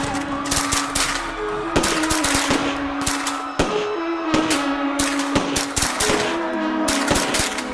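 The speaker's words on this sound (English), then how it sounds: "a British general orders his troops to fire upon Indians gathered at an open park" Gunfire from troops at an open park in Amritsar, Punjab, comes as rapid, sustained bursts of loud shots, near and dense, with a musical tone running beneath.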